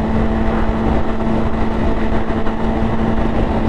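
Motorcycle engine under way during a long bank holiday ride, a steady droning hum with a constant tonal note and rushing wind noise, close and unbroken.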